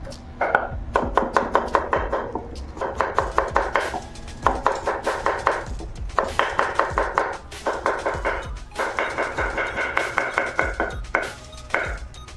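A knife chops bottle gourd on a board in a home kitchen, a loud, close, steady run of sharp hits in quick bursts with brief pauses between, and no talking.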